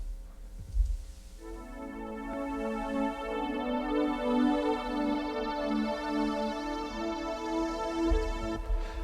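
Roland JX-8P synthesizer playing its Soundtrack Pad patch: a rich, sustained harmonic chord swells in after a brief low thump and holds steadily, full and clear, with no voices.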